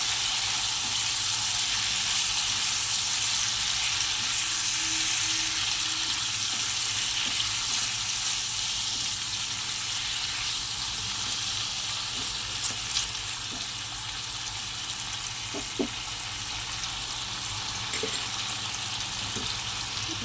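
Spices with turmeric and salt being stirred as they fry in a pan, a soft continuous sizzle with a few faint scrapes and taps of the spoon, heard alone.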